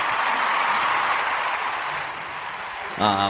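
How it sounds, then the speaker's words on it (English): A dropped-in round of applause for a podcast recorded over Skype, a dense, even burst of clapping that fades slightly before a voice takes over at the end. "I'll put this round of applause in"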